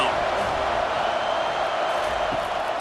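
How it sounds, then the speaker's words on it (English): Stadium crowd noise swells on third down in EA Sports College Football 25, a dense and steady roar of cheering fans under a commentator's voice. "Decibels rising as the crowd gets behind this defense on third down."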